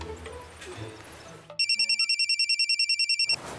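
A telephone ringtone sounds as a rapid series of bright electronic pulses, loud and close, starting abruptly after a stretch of quiet room noise and running for almost two seconds.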